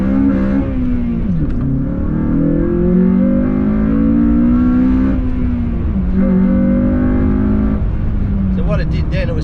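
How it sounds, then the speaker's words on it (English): Honda Civic FN2 Type R with a Quaife limited-slip differential making a hard launch on a slightly wet road, engine revving loudly and rising in pitch as the front tyres spin, close and sustained throughout. "the road here is a little bit wet, so let's do a launch and see how it behaves."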